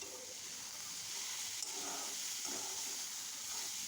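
Ash gourd leaves cook in a pan with a faint, steady sizzle and hiss, while a few soft stirring scrapes sound close by, quiet and with no talking.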